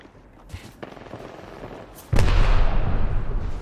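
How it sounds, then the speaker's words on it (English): Smart-bullet gunfire in a team deathmatch shooter game, a couple of sharp early shots, then a sudden loud sustained burst of dense, booming fire that continues to the end. "Firing a smart bullet."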